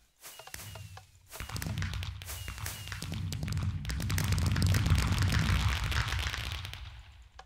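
Consumer fireworks going off outdoors during a holiday celebration, a steady run of bursts, pops and crackles that thickens into a dense, continuous rumble of small explosions lasting several seconds, fairly close, with no one talking.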